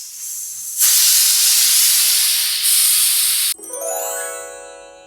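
A pressure cooker of sprouted mung beans and water lets off a single whistle: a loud, sustained steam hiss that breaks into a rising, piercing whistle tone, which then fades.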